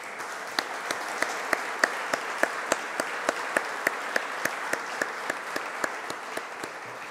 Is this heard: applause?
yes